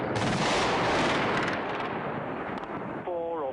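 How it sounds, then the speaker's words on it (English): Continuous loud, rumbling blasts and roaring booms of an air strike on a city fill the air, with a brief voice audible near the end. "A massive shock blast just coming through our windows."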